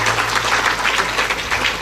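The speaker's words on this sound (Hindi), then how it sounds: "तालियों से स्वागत करिए" A seated audience at a Devi Bhagwat religious discourse claps steadily in a dense, continuous wash of applause, close and fairly loud, with no voices over it.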